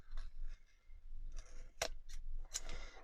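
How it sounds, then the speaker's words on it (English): Scissors snipping through a piece of tape while assembling a no-sew junk journal, several short crisp cuts spaced unevenly, close and quiet with no talk. "I just need to cut that piece of tape off."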